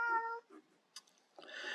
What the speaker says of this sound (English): So, oh my god, cat.